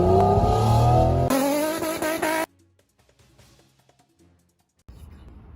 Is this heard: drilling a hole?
no